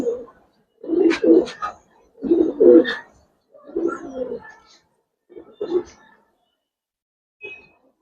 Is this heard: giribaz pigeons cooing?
yes